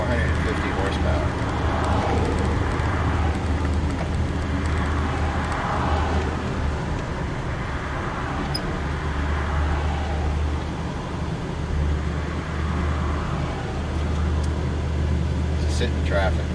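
Road traffic heard from inside a 1965 Chevy panel van in Melbourne, Florida, a continuous low rumble of engines and road noise with passing vehicles, while someone talks over it.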